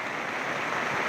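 Heavy rain pours down in a forest around a small tribal hamlet, a steady dense hiss that holds evenly throughout with no voices over it.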